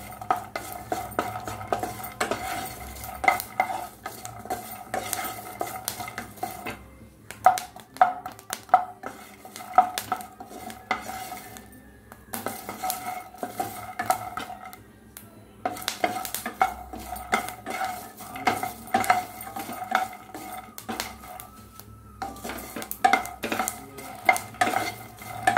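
Raw almonds being stirred and dry-roasted in a pan, a utensil scraping and clinking against the metal in steady, busy strokes with brief pauses, close and fairly quiet, no voices.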